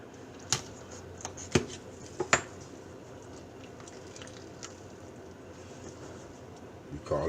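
A sharp knife cuts through fresh rainbow whiting fish, giving a few scattered, close, crisp taps and slicing sounds over a quiet room background.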